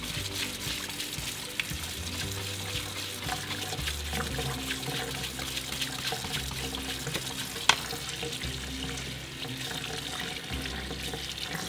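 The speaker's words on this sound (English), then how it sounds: "what I'm gonna do is I'm gonna rinse out all of this fabric softener" Running tap water rinses fabric softener out of a paint brush at a sink, a steady close splashing wash with brief gurgles and one sharp knock near the end, no voices.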